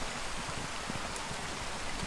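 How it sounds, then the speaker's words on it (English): Rain falls steadily outdoors among Scots pines and bonsai trees, a continuous dense hiss of drops with occasional louder patters, no voices. "Rain's coming down, I better go inside"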